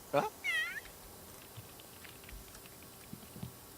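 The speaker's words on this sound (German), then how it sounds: "Karl, friss nicht die Katze zusammen." A short cat meow from the video game The Sims 3 rises and falls near the start, followed by quiet background with a few faint clicks.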